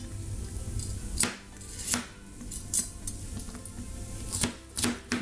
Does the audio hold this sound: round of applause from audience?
no